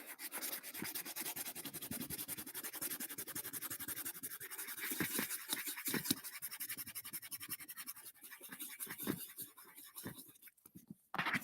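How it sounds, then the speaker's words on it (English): Leather cowboy boots are sanded by hand, giving close, soft, scratchy rubbing strokes in a quick, uneven rhythm. "Okay, that is pretty much nice and sanded down."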